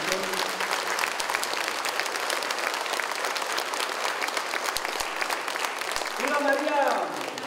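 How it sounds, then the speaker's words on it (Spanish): A crowd at a village fiesta for the Virgin of the Assumption in Santa María Coatlán applauds loudly and continuously, with voices and cheering mixed into the clapping and a shout rising near the end. "Fuerte los aplausos a nuestra Madre"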